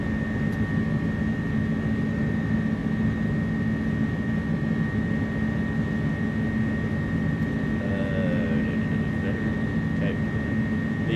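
Simulated engines on an Inibuilds A300 UPS freighter in Microsoft Flight Simulator 2024 drone steadily at takeoff thrust. The roar is continuous and even, with a constant tonal hum throughout.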